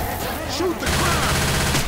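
Rapid gunfire erupts in a video game shootout at a dark carnival fairground, dense crackling bursts that fill the whole clip, with players shouting over it.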